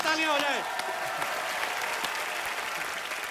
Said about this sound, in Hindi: गोविंदा सर के लिए जोरदार तालियां हो जाए।